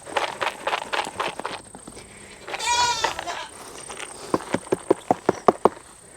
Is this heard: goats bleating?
yes